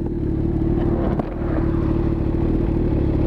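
Kawasaki ZX10 motorcycle engine idling with a steady, loud rumble close by, a brief dip and pickup of revs midway through.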